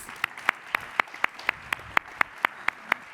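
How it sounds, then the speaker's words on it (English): Steady, evenly spaced claps ring out, roughly four per second, a single sharp rhythmic clapping at moderate distance with little crowd texture, honoring a pitch competition winner at a startup finals event. "Huge round of applause for Torge, please"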